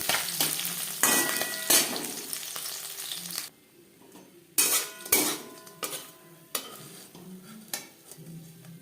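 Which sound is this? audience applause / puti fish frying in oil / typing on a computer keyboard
puti fish frying in oil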